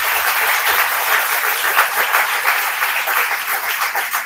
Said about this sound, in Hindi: जोरदार तालियों से आप एक बार